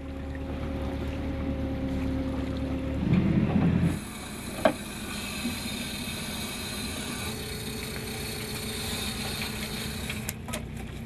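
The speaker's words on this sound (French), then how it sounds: "un petit bateau de pêche traverse le fjord." A small fishing boat crossing a fjord: its engine drones with a steady low hum, swells briefly, then gives a single sharp mechanical clunk before settling back into a continuous motor throb.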